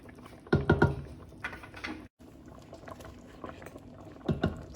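A pot of Saudi kabsah stew with cloves, cardamom, cinnamon stick, black pepper and bay leaves boils with soft, irregular bubbling and popping at close range, coming in brief louder bursts.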